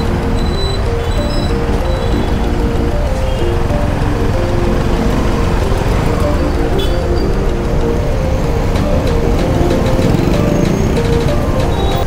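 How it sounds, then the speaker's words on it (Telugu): Heavy evening traffic on a busy Pune road makes a dense, continuous, loud roar of engines and tyres. It is heard from a motorcycle ride with no pauses. "ట్రాఫిక్ అయితే చాలా ఎక్కువ ఉంది"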